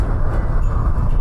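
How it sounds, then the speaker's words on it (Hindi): A train runs beneath a road bridge, heard as a dense continuous rumble with heavy low-end roar, loud and steady throughout the short moment. "अबे ट्रेन नीचे से जा रही है भाई, नीचे दिख रहा है नीचे।"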